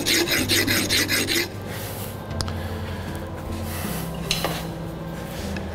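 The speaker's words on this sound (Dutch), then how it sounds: "Eerst even de vijl er langs. Dus dat ik een botkantje erop maak." A metal file rasps along the edge of a stone block, blunting its sharp corner. It opens with a loud burst of rapid back-and-forth strokes, then drops to quieter, steady rubbing with a few scraping accents. No one talks.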